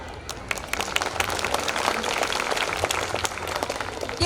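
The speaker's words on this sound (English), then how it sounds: "Let's celebrate this moment with a roaring round of applause for our great 4 champs" A crowd at an Independence Day cultural program applauds four champion performers, a continuous, lively clapping with sharp individual claps standing out, steady across about four seconds.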